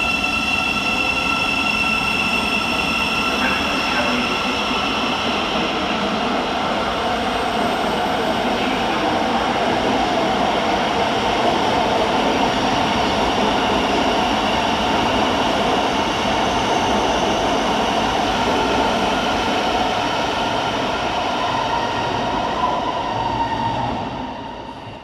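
Thameslink Class 700 train at London St Pancras station, a sustained loud rumble and hiss of the train moving through the station with faint wheel squeal, steady throughout and easing off at the very end.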